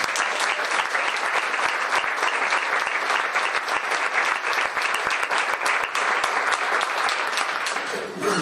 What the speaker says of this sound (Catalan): Demanaria, per tot plegat, un fort aplaudiment.